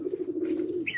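A dove's soft, low coo repeats in a steady run of pulses close by, with a brief higher chirp from another bird near the end.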